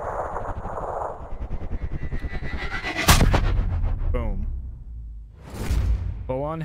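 A sniper rifle shot in the video game Sniper Ghost Warrior Contracts, a sharp loud crack with a booming tail, followed by a second whooshing impact burst, heard over a rhythmic game engine hum and in-game sounds.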